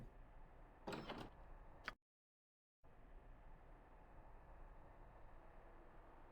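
A door in the video game Baldur's Gate 2 opens with a short sliding scrape and a faint click before the sound cuts to silence, then a quiet, steady hiss carries on.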